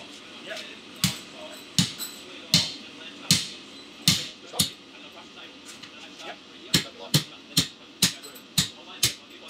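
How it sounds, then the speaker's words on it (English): A blacksmith's hammer strikes a punch and drift into steel, punching holes for tenons in gate parts; about seventeen sharp, ringing metallic blows land in an irregular rhythm, close and clear over quiet background. "We're punching out a plug first, going from both sides, and then when we're through, we use a drift to shape the hole"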